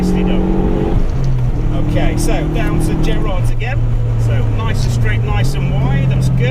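A race car's engine drones and revs on the Mallory Park circuit, pitch climbing and dropping through gear changes, heard close from inside the car under an instructor's continuous coaching voice.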